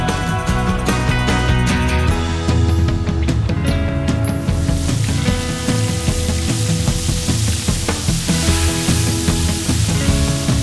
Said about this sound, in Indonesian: lumuri dengan adonan tepung dan goreng hingga warna jamur berubah keemasan